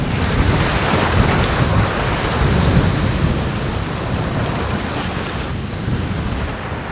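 Strong wind roars over the sea ahead of a storm, with surf crashing, a loud, continuous broadband rush and buffeting that stays steady throughout with no voices.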